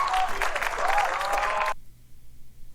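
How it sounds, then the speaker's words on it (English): Live audience applause after a vocal performance, a dense burst of clapping that fills the first second and a half, then cuts off abruptly into near silence. "when you hear the audience clap"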